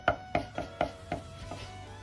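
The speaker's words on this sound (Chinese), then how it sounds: "生姜一块切成姜末" A knife chops a piece of ginger on a board into mince, six crisp, evenly spaced thuds, close and clear with nothing else over them.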